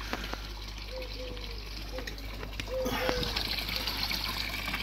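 A potassium permanganate treatment dose poured into fish water for parasite treatment gives a steady trickling, splashing flow that grows slightly louder partway through, with faint whistling tones over a low hum.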